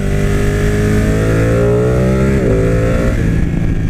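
A Ducati Panigale with new fluids and reservoirs revs loudly during a ride, its engine note climbing steadily and then dropping as it shifts. The sound is close, strong and continuous, with no talk.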